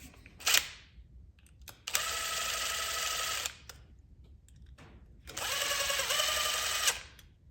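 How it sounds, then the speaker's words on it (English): An impact driver tightens a light fixture onto an electrical box in two bursts of steady whirring of about one and a half seconds each, separated by short clicks and handling noise, close and loud. "I like to use an impact driver when I got a lot of threads."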